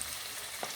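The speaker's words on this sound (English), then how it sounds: "First, we're going to fry the potatoes." Potatoes deep frying in hot oil on medium heat make a faint, even hiss with a brief pop near the end, heard alone for under a second.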